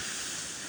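Beach surf washes up on the shore, a steady broad hiss of breaking water with some wind noise, loud and close with no talk.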